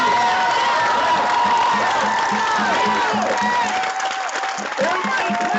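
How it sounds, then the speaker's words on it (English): A protest crowd gathered over the Mike Brown decision in Portland claps and cheers, with rhythmic clapping, shouts and whoops mixed with voices across the whole stretch. "Everybody clap. Everybody clap."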